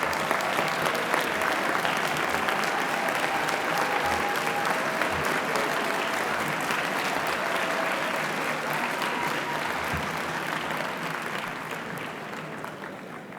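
Sustained audience applause fills a hall at a 2023 University of Michigan College of Pharmacy PharmD commencement ceremony as graduates stand, a steady wash of clapping that holds evenly and tapers a little toward the close.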